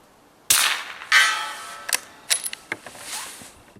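Suppressed shots from a small 9mm bolt action rifle: a sharp report, a second crack, then softer clicks of the bolt cycling, outdoors and fairly close.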